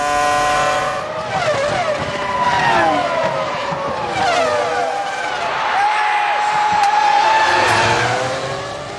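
Formula 1 race cars from the 2005 season on the final lap at Suzuka, with high-pitched engines wailing and shifting as they overtake, loud and continuous under a commentator's voice.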